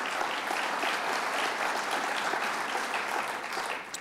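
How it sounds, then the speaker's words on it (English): Audience applause at a Hofstra University event, sustained dense clapping from a large crowd, steady and even for several seconds, heard from some distance. "Let's give him a round of applause, County Executive Ed Mangano."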